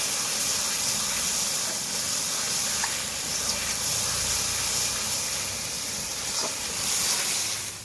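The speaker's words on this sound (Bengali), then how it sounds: "এটাকেও ভালো করে ভেজে নেবো" Oil sizzles and hisses in a pan as food is fried at an outdoor spot beside a pond during the rainy season, a steady broadband crackle that holds without a break and carries no talk.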